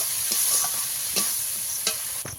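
Spices for prawn malai curry are sautéed in a pan, giving a steady, fairly loud sizzle with a few scraping stirs of a spoon at intervals throughout.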